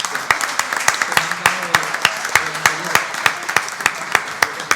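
Audience applauding the four speakers of a panel on debt in Europe, Spain and the Valencian Country, with sharp claps in an irregular rhythm across the room and a few voices murmuring underneath.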